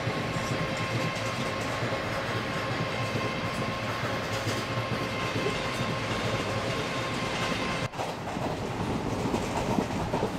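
The 12139 Sewagram SF Express runs at speed while overtaking a freight train, a loud, steady roar of wheels on rails with rhythmic clickety-clack and a sharp momentary dip near the end.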